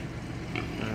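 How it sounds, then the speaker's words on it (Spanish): A hungry pig grunts in short, low, rough snorts against a noisy outdoor background in the community of El Chiflón. "Un cerdo, ¿no? Tiene hambre"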